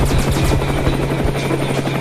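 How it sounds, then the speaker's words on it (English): A helicopter roars close overhead, its rotor beating in a fast steady thump under a loud continuous engine drone with no talk. "I don't know if I can get us away from that helicopter."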